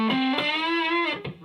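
Electric guitar played through a modded Fender Blues Deluxe amp with all tone controls at halfway, giving a warm overdriven note with a full bottom end, sustained and bending slightly before a short pick attack.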